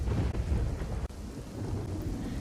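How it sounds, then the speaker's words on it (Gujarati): Heavy rain pours down steadily in Thoradi village, Gir Somnath, amid monsoon flooding, with loud close thunder rumbling through a dense, continuous roar of rainfall and a sharp crack about a second in. "ગીર સોમનાથના થોરાડી ગામે ભારે વરસાદ જોવા મળ્યો છે"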